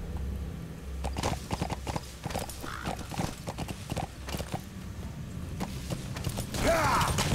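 Rhythmic hoof clip-clop of a horse running in Metal Gear Solid V: The Phantom Pain, steady and close, with occasional creaks and a short whinny-like sound near the end.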